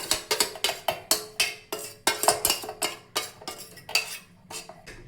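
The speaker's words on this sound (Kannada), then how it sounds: "ಈರುಳ್ಳಿ ಮತ್ತು ಮೆಣಸಿನ್ಕಾಯಿ, ಶುಂಠಿ, ಬೆಳ್ಳುಳ್ಳಿನ ಅದನ್ನು ಮಿಕ್ಸರ್ ಜಾರ್ಗೆ ಹಾಕೋಬೇಕು" Fried onion, chilli, ginger and garlic go into a metal mixer jar while preparing palak egg masala, giving a rapid series of close, sharp metallic clinks and scrapes of a spoon against the jar with no talking.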